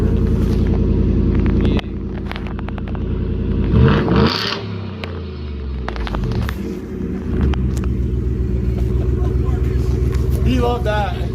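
A Ford F-150 pickup with a Mustang 5.0L V8 engine rumbles loudly and steadily up close, with a rev that rises and falls midway and a voice talking over the engine.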